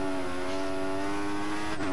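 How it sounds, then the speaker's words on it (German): Formula One race car in the F1 2014 racing game at the Malaysia circuit, spinning out under too much throttle: a steady, loud engine drone with a whining harmonic tone that lurches and dips near the end. "Zu viel Gas und schon komplett quer gestanden."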